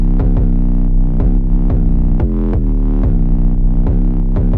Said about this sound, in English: 808 bass is heavy and aggressive with additional pedal to add more distortion to the sound.